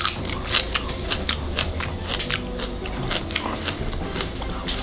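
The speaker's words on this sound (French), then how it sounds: "je vais croquer et on va voir si ça pique vraiment" Someone bites into a piece of chili pepper, producing a steady series of close, crisp crunching bites and chewing sounds, with no talking.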